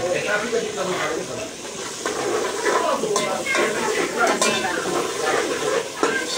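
Steady sizzling of mutton being fried in a pan for Alok Ghosh Bada, with occasional stirring scrapes and clinks throughout.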